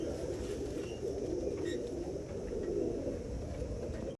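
Hazar wali pigeon cooing close by, a soft low throaty murmur repeating steadily over a constant background hum, with no talking.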